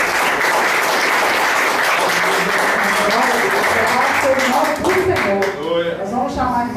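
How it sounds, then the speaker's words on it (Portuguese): Loud congregation applause fills a church service, dense clapping at first, then thinning as a voice begins speaking over the tail end. "Uma salva de palmas no nome de Jesus."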